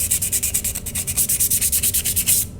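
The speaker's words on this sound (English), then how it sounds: "You keep sanding and sanding," Rapid back-and-forth sandpaper strokes on sheet metal give a close, even rasping rhythm of many quick passes, stopping abruptly at the end, with no talking.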